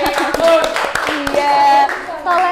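A class of students clapping hands together during a microteaching lesson, with irregular claps mixed with chatter and children's voices close by.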